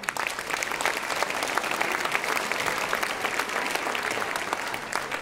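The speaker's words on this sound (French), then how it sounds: "aul Guèze, deux jeunes habitants de Clennec, vous pouvez applaudir bien fort." Warm, continuous applause from an audience at a Christmas show, dense clapping holding at an even level throughout with no talking over it.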